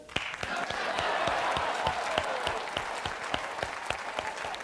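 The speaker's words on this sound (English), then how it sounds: "Let's give a nice round of applause for Bill Bissett." A crowd applauds steadily, a dense wash of clapping with a few sharp individual claps standing out throughout.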